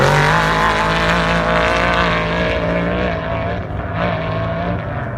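Fox-sponsored off-road race truck number 41 roars past during qualifying at the Parker 425 desert race, a loud, steady engine drone that fades slightly as it moves away.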